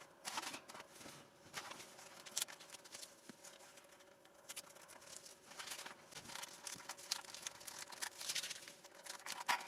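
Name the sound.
masking tape being peeled off model aircraft wing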